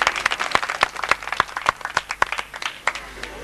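An audience at a mushaira poetry gathering during a mela honoring Syed Abdulla Shah Bukhari claps loosely and unevenly, a scattered round of close, sharp hand claps without any talking.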